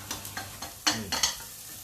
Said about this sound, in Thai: คั่วไปอย่างนี้ครับ